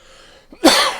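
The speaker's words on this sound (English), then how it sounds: "I do apologise for the coughing" A single sharp cough from a person during a relaxed live coding session, a brief soft lead-in followed by one loud burst that trails off, close and alone without talk.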